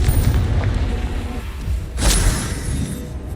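A Confringo blasting spell explodes in the Hogwarts Legacy video game, a loud, deep boom with a long rumbling tail, followed by a second whooshing burst midway, with no one talking.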